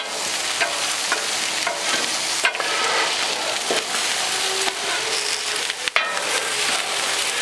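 Beer brats with peppers and onions sizzling on a grill, a loud, dense, continuous hiss and crackle close up with a few sharp pops, no talking.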